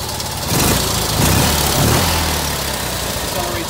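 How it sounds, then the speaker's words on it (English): A Fiat 126p engine runs close by at a steady, buzzing idle, swelling slightly louder a couple of times before easing back to an even drone. "the engine is running pretty smoothly."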